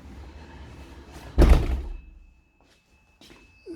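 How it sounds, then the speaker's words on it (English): A flat's front door in a residential block bumps shut with one loud, close thunk, followed by a quiet stretch and faint small sounds. "I'm going to go back out to the front door now."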